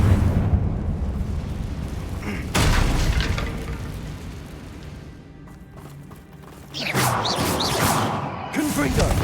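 Confringo fire blast spell cast in Hogwarts Legacy, heavy booming eruptions in two big surges separated by a quieter lull, with whooshing fire and crashing impacts and a voice heard briefly.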